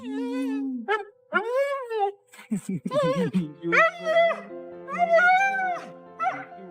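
Dog whimpering and whining excitedly while reunited with its owner, a run of high, wavering yelps and drawn-out moaning cries in quick succession, close and loud, with no talk over it.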